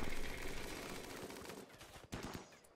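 Assault rifles fire in the colony game Rimworld as a faint, distant rattle of rapid shots, thinning out toward the end with a few sharper cracks.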